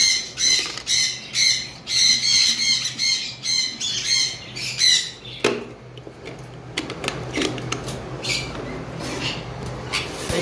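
Conure parrots squawk inside a box in a rapid series of loud, harsh, shrill bursts for about five seconds, then a sharp knock, scattered thumps and rustling follow with fainter calls.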